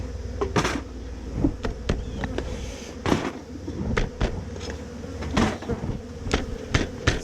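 Honeybees buzz steadily around an open hive in Texas as frames are worked, with occasional knocks and thumps of wooden frames and boxes close by.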